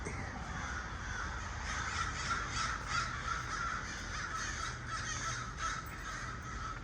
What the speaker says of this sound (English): I think this bird is having fun